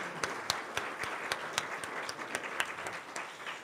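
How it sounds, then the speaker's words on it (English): An audience at a weekly meeting gives a round of applause, a moderate crowd of clappers with a few sharp, distinct claps standing out over the softer patter. "So let's give them a round of applause."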